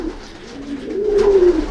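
A racing pigeon, a small delicate hen, gives a soft rolling coo close by, swelling to a single throaty note near the end against faint background hum.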